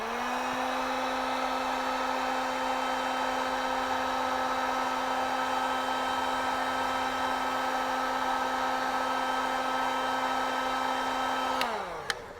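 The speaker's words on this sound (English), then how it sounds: "All you want to do is get a heat gun, a blow dryer will work just as well" A heat gun blowing hot air to loosen a price tag in a woodworking shop, a steady, close, high-pitched whine and rush of air that holds for several seconds before spinning down and clicking off.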